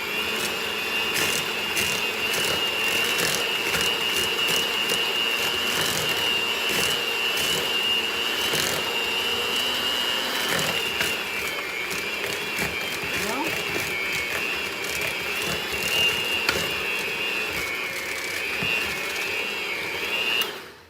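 A hand mixer whirs steadily through room-temperature cream cheese and brown sugar, a continuous close motor drone with a high whine that holds for about twenty seconds, its pitch dipping slightly as the beaters work the thick mixture.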